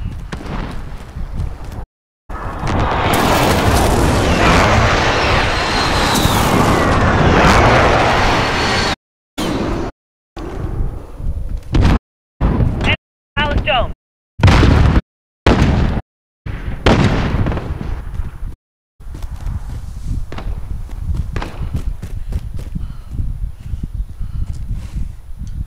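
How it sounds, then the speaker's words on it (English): Airstrike explosions hit a courtyard in a Call of Duty match: a long, loud stretch of booming blasts and rumble, then choppy bursts broken by short silences, and finally fainter scattered pops and crackle. "Airstrike, courtyard."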